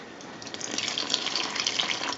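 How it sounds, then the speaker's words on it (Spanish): Water poured into a bowl of bread dough mixture of flour, yeast, sugar and oil for Colombian water bread, a steady close splashing pour lasting a couple of seconds with no talk. "y le echamos el agua."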